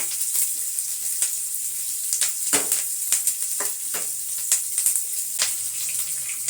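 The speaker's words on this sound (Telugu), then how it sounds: "ఇవన్నీ కరివేపాకు ఉల్లిపాయలు పచ్చివాకులు పోయేదాకా వేయించుకున్నాము" Curry leaves, onions and green chillies fry steadily in a pan, a continuous bright sizzle with occasional louder crackles and pops and a few scraping stirs, close and alone with no talking.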